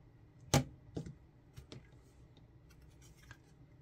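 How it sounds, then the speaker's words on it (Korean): A thick, grounded power cable is cut for a homemade multi-outlet power supply, with a few sharp, quiet snips and crunches spaced irregularly over near silence. "접지선이 있고 두께가 비교적 굵은 전원 케이블을 잘라 연결해 주었습니다."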